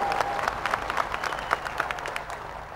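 Applause from a crowd at a political rally in Chitral, a steady wash of clapping with scattered sharper claps, moderately distant and fairly faint throughout.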